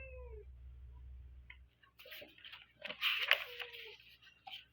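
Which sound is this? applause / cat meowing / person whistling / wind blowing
cat meowing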